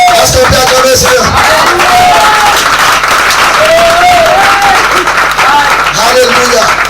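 A church congregation at a revival service in Buyo applauds and cheers loudly and continuously, with shouting voices rising over sustained clapping.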